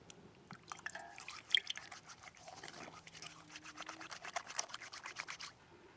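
Hands being rubbed and washed with primitive soap made from yucca leaves, giving soft wet squelching and rubbing sounds with a few drips and faint handling noises, close and quiet, with no talk.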